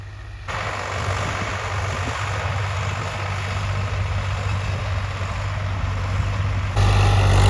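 A Swraj 855 tractor engine runs steadily at about 2000 RPM, a loud continuous low diesel drone with a constant hum throughout, rising slightly louder near the end, with no talking.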